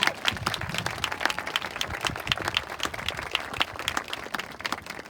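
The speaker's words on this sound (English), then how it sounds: "give them a round of applause" Audience applause at an outdoor elementary school stepping-up ceremony, a dense, steady patter of many hands clapping for about five seconds with no talk over it.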